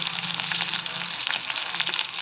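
Coriander and curry leaves sizzling in hot tempering oil, a steady bright crackling hiss close by with small popping bursts and no talk.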